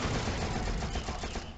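Continuous automatic machine gun fire from the shooter game You Are Empty, loud and close, rattling nonstop without any pause.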